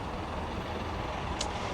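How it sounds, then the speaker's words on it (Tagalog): Heavy bus engine rolling past on a cold, windy Korean street, a steady close rumble mixed with wind noise and a brief hiss near the end. "Ito ibang bus na to, itong mga ibang blue bus, iba yung punta nito."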